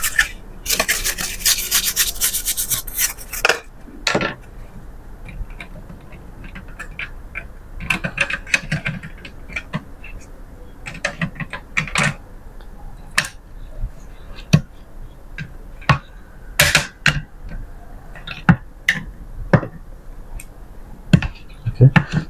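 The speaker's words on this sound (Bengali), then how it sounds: "তারপর এই কভারটা লাগাবো।" A plastic cover is fitted onto an HP LaserJet M612 printer: a burst of rubbing and scraping at first, then scattered sharp clicks, snaps and taps of plastic parts seating, with quiet gaps between.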